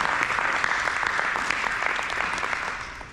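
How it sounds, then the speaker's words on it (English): Audience applause at a collegiate baseball team ceremony, a dense steady clapping from a crowd that holds for a few seconds and tapers slightly at the end. "If you guys can take a second, give yourself a round of applause."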